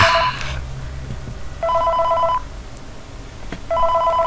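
Phone ringing in the horror video game Five Nights at Freddy's 3, heard as two long electronic ring bursts separated by a pause, loud and close with no talking over them.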